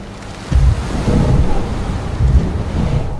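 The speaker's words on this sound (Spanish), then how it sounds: "Porque además la tormenta viene con todo" A sandstorm in Texas rages in the video game Beyond: Two Souls, heavy rumbling wind roaring loud and steady with deep booming surges.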